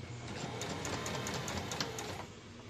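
A sewing machine stitches a fabric strap through to the end of the material with the presser foot held even: a steady, close mechanical whir with rapid ticking and no talk.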